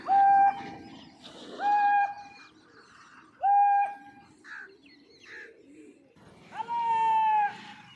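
Pigeons call in short bursts, several separate coos and warbling cries spaced a few seconds apart, fairly close and clear against a quiet background.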